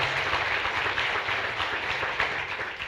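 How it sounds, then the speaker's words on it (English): Conference audience applause rolls on in a dense, continuous patter at moderate level, a few sharper claps standing out, while a faint low murmur of voices sits underneath. "Another applause."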